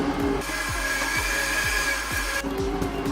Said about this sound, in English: So I'm just gonna keep talking even with the garbage trucks in the background.